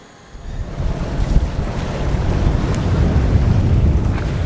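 Steady gusting wind buffets the microphone aboard a sailboat leaving an anchorage off Moorea on a breezy day, with a constant low roar of surf and water around the hull and no talk.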